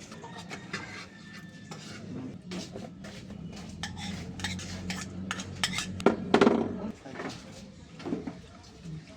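Pots, pans and cooking utensils clink and scrape in a home kitchen while a mother cooks, irregular metallic knocks and stirring close by, with people talking over them.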